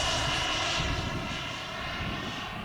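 An HSD Jets T-33 RC jet with a 120mm electric ducted fan, flying on its maiden flight at part throttle, gives a loud, steady, smooth whine and rush that holds level throughout, with no voices.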